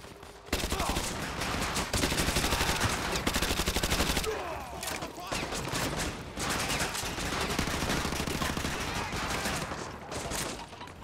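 MP5 submachine gun fire in Modern Warfare 2 Remastered comes as loud, dense automatic bursts. Other gunfire and battle noise layer in, and a short drop in the middle breaks the steady stream of rapid shots.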